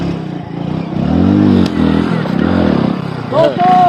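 A motorcycle labours along a rough farm track beside a cotton field, its engine loud and close, surging and revving unevenly with clattering and scraping, while people talk over it.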